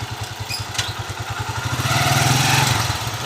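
A Suzuki Shooter 115 Fi motorcycle engine with an engine knock chugs steadily, then revs up into a louder, whining drone before easing slightly.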